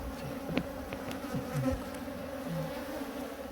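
Native Halla honeybees buzz in a low, steady drone, with faint individual bees passing near the listener.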